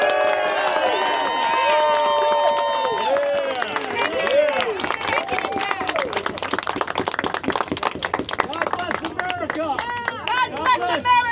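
A crowd at a Republican candidates' election event in New York City gives a standing ovation, with dense clapping and cheering mixed with crowd babble, loud and continuous throughout.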